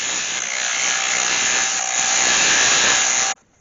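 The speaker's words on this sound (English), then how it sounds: "I'm just going to go in with a scraper and do that" A scraper cuts into an ash bowl spinning on a wood lathe, giving a loud, steady, close grinding whine. It holds unbroken for about three seconds and then stops abruptly.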